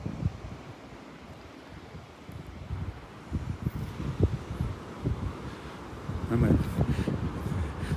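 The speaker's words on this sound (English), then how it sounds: "It's going to get windy out here." Wind buffets the microphone in rumbling gusts that build stronger toward the end, outdoors and close on Vanderbilt Beach.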